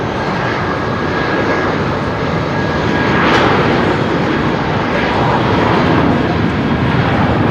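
Boeing 737 jet engines at Heathrow Airport roar steadily and loudly throughout, a dense continuous rumble with a slight swell in the middle.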